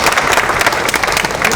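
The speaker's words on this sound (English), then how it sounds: "Yeah, that's a round of applause." Crowd applause at an outdoor Juneteenth flag raising in Cincinnati, a steady, dense round of clapping that holds loud and even throughout, with no voices over it.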